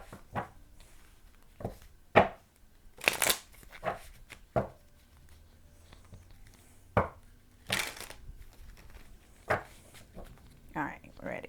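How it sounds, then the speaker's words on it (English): Tarot cards being shuffled in several sharp bursts of riffling and slapping, spaced irregularly and close up, with quiet gaps between them and a voice in the background. "Just shuffle these cards a little bit."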